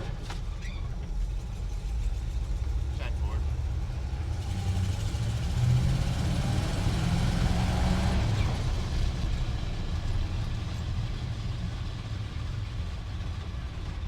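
A 1966 Jeep Gladiator engine drones steadily at close range while driving, with low rumbling that swells mid-clip as gears are shifted; a brief voice is heard near the start.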